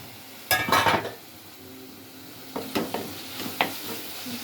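Tomatoes fry in a pan while a spoon stirs them, with a burst of scraping and clinking early on, then softer sizzling and several brief stirring scrapes close by.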